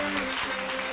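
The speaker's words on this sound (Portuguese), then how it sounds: "Ok, aplausos para o Nicolas." Brief burst of audience applause for a child magician at a children's magic show, dense clapping with a steady tone humming underneath, under a second long.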